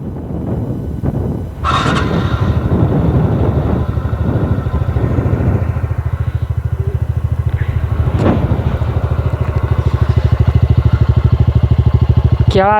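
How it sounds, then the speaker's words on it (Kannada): A 2024 TVS Ntorq 125 scooter with a 125cc engine fires up and settles into a steady, close idle, its low, even engine hum running for several seconds with a brief rev near the end. "ಬರ್ರಿ ನಿಮಗೆ ಗಾಡಿ ಸ್ಟಾರ್ಟ್ ಮಾಡಿ ತೋರಿಸ್ತೀನಂತೆ"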